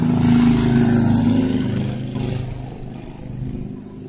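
A motor vehicle passes along a very small side street in the middle of the night, its engine loud and close at first, then receding into a steady rumble of distant traffic, with no voices.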